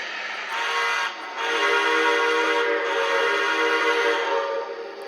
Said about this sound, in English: That is a huge, huge steam whistle.